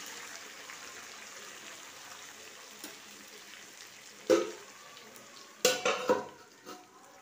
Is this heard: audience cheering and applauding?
no